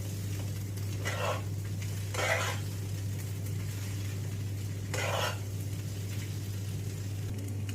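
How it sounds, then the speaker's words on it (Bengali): Food being stirred in a frying pan in a home kitchen, three short scraping bursts of a spoon against the pan over a steady low hum, with quiet gaps in between. "এবার আমি ভালো করে নাড়িয়ে নিই।"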